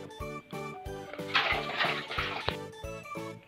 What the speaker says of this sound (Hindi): अब इसको बढ़िया से धो लेंगे पानी से